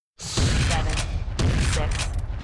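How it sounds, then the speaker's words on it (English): Two loud FAS-12 shotgun blasts fired in the video game Trespasser, each a sharp boom with a long rumbling tail, about a second apart. "Let's take this FAS-12. Eight shots."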